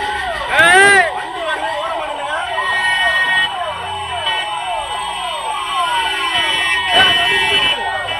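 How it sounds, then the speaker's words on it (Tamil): An emergency vehicle siren wails in repeating rising-and-falling sweeps, loud and close, over street traffic and crowd noise, with a harsh buzzing horn blast near the start and again later. "எமர்ஜென்சி வண்டி வருது, கொஞ்சம் ஓரமா நின்னுக்கோங்க."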